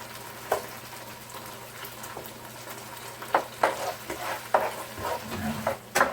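Sotanghon glass noodles and sardines cook in a pan with a low, steady sizzle and bubbling. Occasional sharp clinks and scrapes from stirring break through, growing more frequent toward the end.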